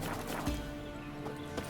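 Horse hooves clip-clop sparsely while riding in The Witcher 3, a few soft, uneven steps heard faintly beneath steady game music and ambience.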